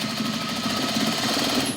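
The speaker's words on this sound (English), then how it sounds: "So this industrial machine only does a straight stitch." An industrial sewing machine with a fast motor running a straight stitch, a loud, continuous close-up rattling drone with a rapid steady pulse and no voices.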